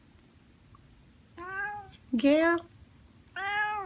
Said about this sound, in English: There is a kitty.